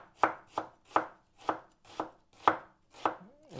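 A knife chops through an onion on a cutting board in about nine crisp, evenly spaced strikes, close and clear, for a quick aloo brinjal achari meal.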